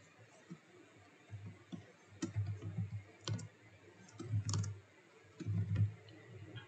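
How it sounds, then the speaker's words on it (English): Soft clicking of keys as a view name is typed on a computer keyboard in CAD software, faint scattered taps in short bursts. "let's go ahead and type in our CAD view name"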